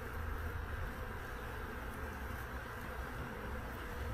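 Caucasian honey bees buzz steadily at close range, a continuous droning hum with no breaks and no talking.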